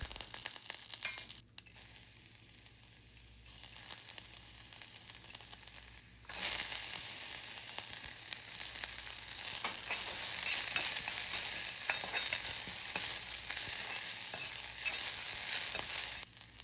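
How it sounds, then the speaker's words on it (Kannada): Mustard seeds, cumin, curry leaves, finely chopped garlic, ginger and capsicum sauté in oil. A quieter hiss jumps to a loud, steady sizzle partway through, with soft stirring scrapes and no talking. "ಸಾಸಿವೆ, ಆಮೇಲೆ ಜೀರಿಗೆ, ಸ್ವಲ್ಪ ಕರಿಬೇವು, ಸಣ್ಣದಾಗಿ ಹೆಚ್ಚಿರೋ ಬೆಳ್ಳುಳ್ಳಿ ಮತ್ತು ಶುಂಠಿ ಮತ್ತು ಕ್ಯಾಪ್ಸಿಕಮ್ ಹಾಕಿ ಬಾಡಿಸ್ಕೊಳ್ತಾ ಇದ್ದೀನಿ"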